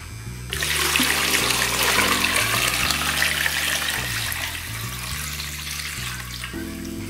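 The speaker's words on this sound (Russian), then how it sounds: "Теперь заливаем в кастрюлю воду. Я обычно заливаю теплую воду." Warm water poured into a metal pot for home canning jars of mackerel, a steady loud gushing rush that continues for several seconds, with no talking.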